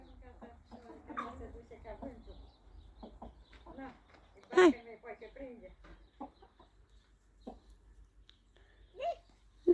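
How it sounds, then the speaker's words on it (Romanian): A farmyard hen clucks in short, scattered bursts close by while a person tries to catch it, with voices talking and calling over it and one sharp squawk midway. "Așa, prinde găina."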